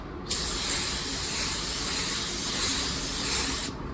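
A spray gun spraying car paint hisses in one long, steady burst, starting and stopping abruptly; close, bright and continuous, with no voices.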